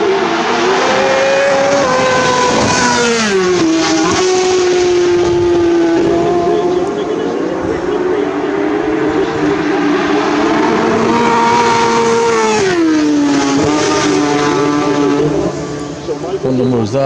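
Several superbikes racing in the Isle of Man TT roar past one after another near Ramsey, engines rising and falling in pitch, loud and continuous with a commentator talking over them.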